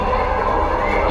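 Dramatized crowd in the streets of Jerusalem, a dense, loud, continuous roar of many shouting and cheering voices close at hand, with no single clear speaker.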